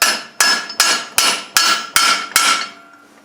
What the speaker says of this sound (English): Stick that on my Allen wrench, tap it in to get it started.